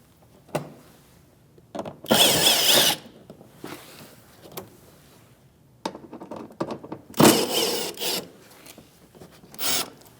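A power tool with a 7mm socket backs out fender liner screws on a 2016-2025 Chevrolet Malibu in short whirring bursts, separated by quiet handling clatter and light thunks.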